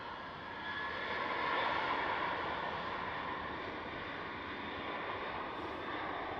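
A Boeing 737-900 airliner at night on a runway at Amsterdam Schiphol, departing toward Aberdeen, with a steady broad jet engine roar that swells slightly and holds, heard from a distance with no voices.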